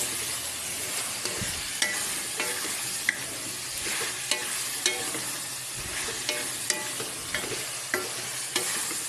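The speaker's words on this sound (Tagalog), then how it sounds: "Ayan, nagmamantika na po." Pork frying in its own rendered fat for a Filipino sinigang with taro: a loud, continuous crackling sizzle with scattered sharp pops and occasional utensil clinks, heard close with no talking.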